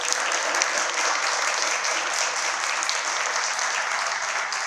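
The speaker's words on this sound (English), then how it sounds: "Please join me in giving them a big round of applause." Audience applause at a community candidates meet and greet, a dense, sustained clapping from a crowd that stays steady and moderately loud throughout.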